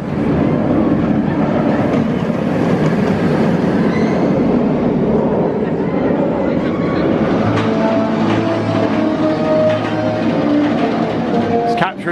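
A roller coaster train runs through Forbidden Valley at Alton Towers, a loud continuous rumble and rattle of wheels on track with squealing tones later on, under a noisy outdoor park ambience with some voices.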